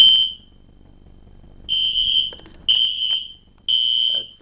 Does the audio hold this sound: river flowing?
no